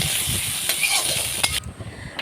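Rice frying in a pan with fish belly pieces for an Assamese dish, a steady close sizzle broken by a few stirring scrapes, with no talking.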